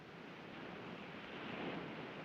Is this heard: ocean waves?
yes